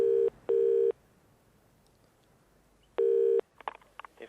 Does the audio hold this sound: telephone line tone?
yes